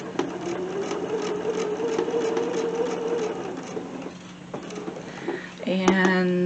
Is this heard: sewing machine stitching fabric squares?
yes